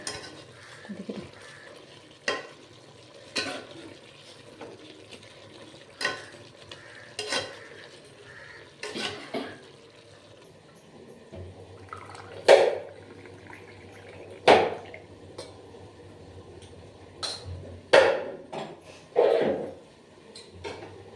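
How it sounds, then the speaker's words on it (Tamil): Chicken cooking in a pot on a home stove gives a soft simmer, with repeated scraping and clinking as a spoon stirs at irregular intervals, close by and without talk. "சிக்கன் நல்லா குடிச்சிட்டு இருக்குங்க."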